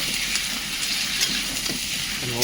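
Kadaknath chicken meat, cooked village style, fries in hot oil: a steady close sizzle with crackling and occasional stirring clatter, loud and continuous throughout.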